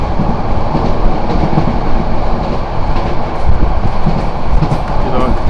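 The Mohanagar Godhuli train runs at high speed, over 80, with a loud, dense, continuous rumble and rattling clickety-clack of wheels heard from inside the carriage.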